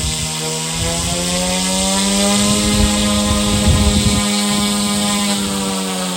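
A Goosky S2 RC helicopter's electric motor revs steadily in mode 2, holding a loud, sustained high-pitched whine with rich harmonics and a constant rotor buzz throughout, close and without talk.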